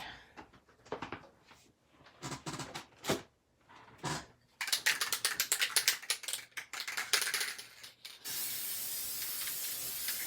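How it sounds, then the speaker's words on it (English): Bursts of aerosol spray hiss, short at first, then a long continuous spray at the end, close and loud, with some clicks and handling noise. "I'm just spraying that"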